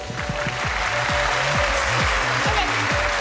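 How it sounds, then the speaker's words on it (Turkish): A talent-show audience claps in a dense, steady burst of applause under loud rhythmic music with a pulsing beat. "Kocaman bir alkış."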